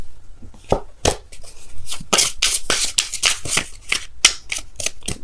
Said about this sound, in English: Can I just shuffle?